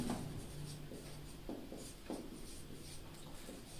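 A pen writes by hand on paper while journal entries are set down in an accounting lesson, making faint, close scratchy strokes in short bursts with quiet pauses between them.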